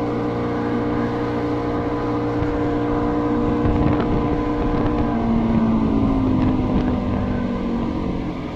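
A 1998 Evinrude 90 Ficht two-stroke outboard motor on an Uttern 5412 boat drones steadily and loudly throughout, a buzzing engine tone with some wind rush, no voices.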